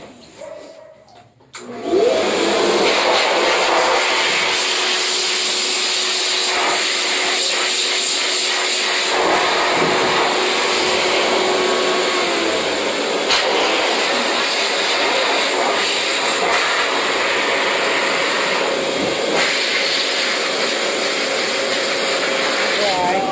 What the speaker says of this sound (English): Alright, so I get my blow dryer together.